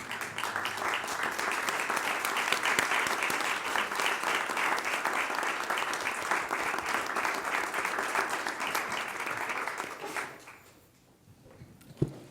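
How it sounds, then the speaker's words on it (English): An audience at a school board recognition meeting applauds board members with sustained, dense clapping for about ten seconds, then it fades to near quiet with a faint sound at the end. "let's give our Board of Members a round of applause."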